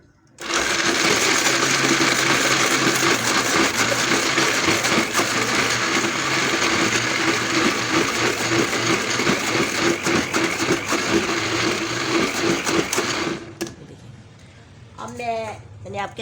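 A kitchen blender whirs loudly and steadily for about thirteen seconds while peeling garlic, then cuts off abruptly, leaving a quieter tail with a voice speaking.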